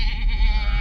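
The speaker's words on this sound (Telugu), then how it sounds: "రెండు గేదెలు ఒక చిన్న మేక అరుస్తున్నాయి" A small goat lets out a single short, nasal bleat, close and fairly loud, lasting under a second.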